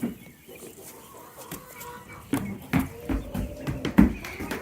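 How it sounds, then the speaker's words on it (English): Chickens cluck and shuffle nearby, with a few soft thumps and flutters as birds jump down off a perch, over a low background hum. "You hear the chickens jumping off of the perch."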